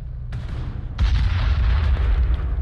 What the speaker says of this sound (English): They say it's a quote-unquote grenade launcher